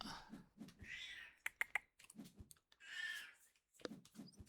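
A cat makes several short, close meows and chirps in a quiet room, with scattered light clicks between them.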